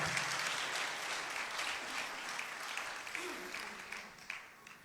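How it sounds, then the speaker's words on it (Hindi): A church congregation at a thanksgiving mass for a newly ordained Capuchin priest applauds, a broad wash of clapping that is loudest at first and then eases slightly, with a faint voice briefly rising under it. "जोरदार तालियों के साथ।"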